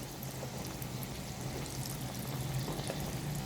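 Wontons frying in hot oil, giving a steady, dense sizzle and bubbling that stays even and fairly quiet throughout, with no voices.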